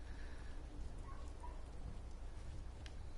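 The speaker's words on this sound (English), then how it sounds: "I figured I'd make it nice and pretty and sunny, and, well, it's rainy" Steady rain hisses continuously in Fallout 4, a dense, even wash of falling water with a faint low rumble underneath and no speech.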